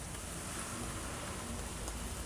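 Steady rain falling outdoors during sunshine, a continuous dense hiss of drops on surfaces, even and unbroken throughout.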